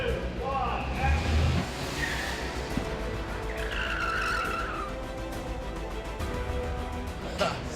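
A car skids with tire squeals during a staged movie car chase for Captain America: Civil War, rising shrieks over a loud engine and traffic roar, with a voice briefly counting down at the start.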